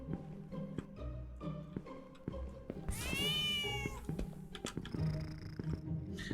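Cartoon cats in the cat-themed horror game Howler meow and trill over soft rhythmic clicks and thumps, with one long wavering meow rising clearly in the middle and a few shorter calls around it.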